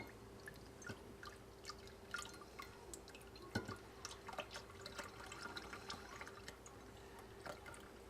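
Homemade salve drips and trickles steadily as it is poured, with small irregular taps close by and fairly quiet.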